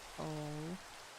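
Minecraft rain falls as a faint, steady hiss across the whole stretch, with a brief tonal, voice-like note rising over it near the middle.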